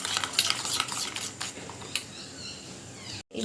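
Spoon stirring and whisking a masala mixture of red chilli powder and spices in a bowl for mutton biryani, a rapid scraping clatter that gradually eases into softer mixing, with no talk.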